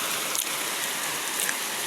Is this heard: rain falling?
yes